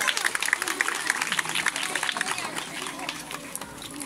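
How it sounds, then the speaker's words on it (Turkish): Guests at an engagement ceremony clap in a lively, sustained round close by, mixed with crowd chatter and a few raised voices early on, easing slightly toward the end. "Hepsini bir alkışlayalım."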